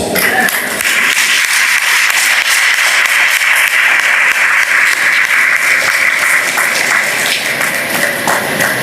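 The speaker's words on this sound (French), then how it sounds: "Une autre fois, nous demandons l'autre applaudissement pour Dr. Garland." Audience applause in a multipurpose hall after a talk at a university symposium in Jacmel, sustained loud clapping from a large crowd lasting several seconds without letting up.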